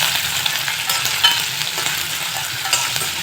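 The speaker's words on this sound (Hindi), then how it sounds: "अब जब तक ले अच्छा से आलू फ्राई ना हो जाए तब तक ले भुने देगा" Potato pieces frying in a pan for sabudana khichdi, a steady close sizzle with occasional stirring scrapes throughout, no talking.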